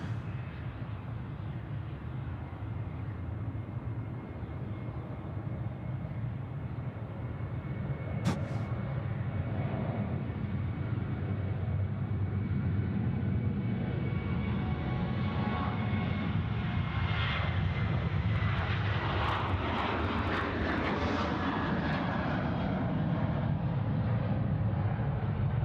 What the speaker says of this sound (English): Rex 31 to Melbourne now rolling. Runway 34 right. 737-800.